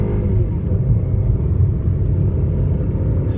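A Mazda CX-30 small SUV's four-cylinder engine accelerates hard under full throttle, a steady loud low rumble heard from inside the cabin for the whole stretch, with no talking.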